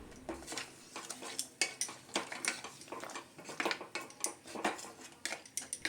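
A metal spoon stirs mutton paya in a cooking pot, with repeated clanks and scrapes against the pot in an uneven rhythm, close and fairly clear.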